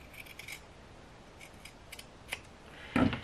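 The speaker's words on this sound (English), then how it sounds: "Now we're going to trim this corner." Scissors snip the corner of a fabric hem on a sewn pinafore, giving a few quiet, crisp cuts spread out over a couple of seconds, with a louder snip near the end.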